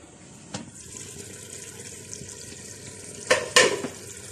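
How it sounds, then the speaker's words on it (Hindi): Water is poured into a pot of mutton stew, giving a soft trickle and splash, with a brief clink early on and two louder splashy pours near the end, and no voices. "अब गोश्त को हम गलाने के लिए इसके अंदर मैं 2 से 3 ग्लास पानी डालूंगी"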